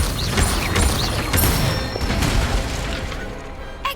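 Hogwarts Legacy spellcasting with the Incendio fire spell: a dense whooshing roar with mechanical creaks and rumbling impacts, loud and sustained before tapering off, with no speech.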